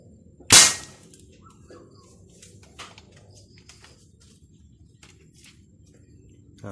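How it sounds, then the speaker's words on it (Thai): A gas-powered gun fires 2 mm balls at cans from about three to four meters, producing a single sharp, loud pop near the start, followed by quiet room sound and faint small knocks. "ก็ใส่ลูกนะผมสองมิล กดแก๊ส นะผมยิงเหมือนเดิมครับระยะสามเมตรถึงสี่เมตรนะครับ"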